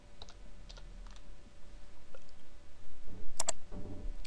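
Computer keyboard typing while entering text for a logo in Photoshop, a few scattered light clicks at first, then a denser quick burst of keystrokes near the end, close and fairly quiet.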